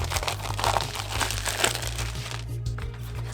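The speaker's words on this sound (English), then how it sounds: "let's get this plastic cut and see what we get in the box." Plastic wrap is cut and pulled off an ARROWMAX cordless precision screwdriver set box, making continuous close crinkling and rustling that fades near the end.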